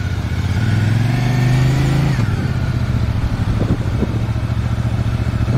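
A Zongshen RX6 motorcycle engine is heard close and loud, idling and then revving up, with a drop in pitch and a return to a steady idle near the end.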